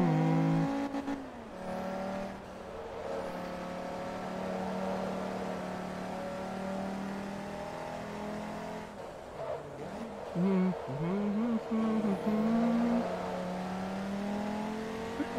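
Sustained engine drone from a Class D car lapping in Forza Motorsport 3, steady and loud with shifting pitch as it revs and shifts gears, under occasional talk.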